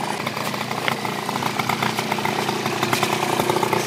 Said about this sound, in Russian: Вот мы обкатываем наши мопеды.